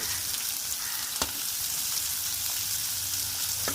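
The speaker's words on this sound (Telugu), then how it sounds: "ఈ కాకరకాయ ముక్కలను అయితే కడాయిలోకి తీసుకొని వేయించుకున్నాము" Bitter gourd pieces fry in hot oil in a kadai, giving a dense, even sizzle throughout, with a few faint clicks of a spoon.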